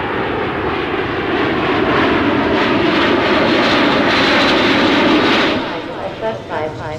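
An airliner engine from a flight out of Amsterdam drones steadily as a loud, continuous roar, with voices over it. It eases off slightly near the end.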